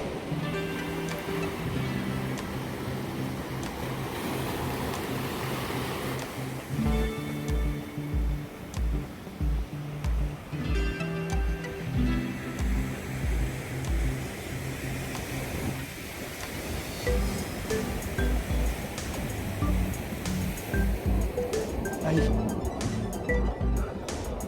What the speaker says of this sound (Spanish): las olas rompiendo súper cerca